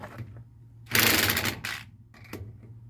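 Ratcheting clicks and metallic mechanism noise from tightening lug nuts on wheel spacers of a 1976 Ford F250, a loud burst of rapid ratchet strokes in the middle, then shorter bursts, close by.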